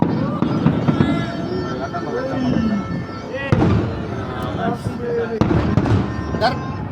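New Year fireworks and firecrackers pop and crackle in repeated bursts, some sharp and close, over a steady background din, while people talk and shout nearby.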